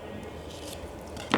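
A knife slicing into an avocado and scooping out the chunks for a salad, with soft, quiet cuts and one sharper squishy scrape near the end, heard close up without talk.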